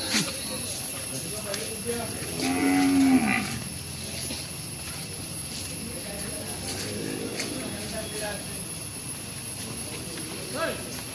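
Cattle and buffalo calves mooing at a Sunday livestock market in Kollannur, one long loud low moo near the middle and fainter calls later, with a busy crowd murmuring and hissing noise behind.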